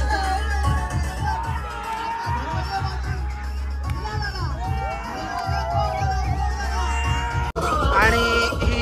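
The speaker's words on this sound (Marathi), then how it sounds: "आणि इथे आमच्या टीमचा विनिंग जल्लोष." Winning team in a tennis ball cricket match cheering loudly outdoors, a dense crowd of voices shouting and whooping continuously with children's yells mixed in, breaking off briefly near the end before resuming.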